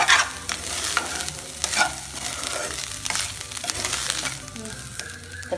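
Grated coconut is stir-fried in a pan for a Nagercoil hotel-style goat intestine fry, with a steady sizzle broken by repeated scraping strokes of the spatula.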